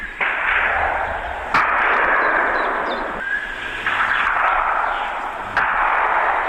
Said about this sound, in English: this is 400 meters away, suppressed pistol